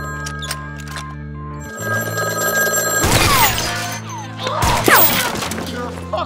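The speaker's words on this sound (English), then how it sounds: "There's a phone in this building." Telephone bell ringing inside a building during a shootout, steady ringing tones overlapped by loud sharp crashes and gunfire-like bursts.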